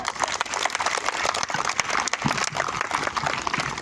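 A group of children clapping after hearing a story, a dense, steady burst of applause lasting several seconds at close range, with no voices over it.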